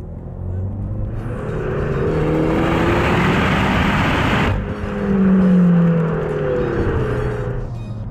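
The Peugeot RCZ R's 1.6-litre turbo engine revs hard, its raspy, hoarse exhaust climbing to a sustained loud roar, cutting briefly, then rising again, close and with no talking over it.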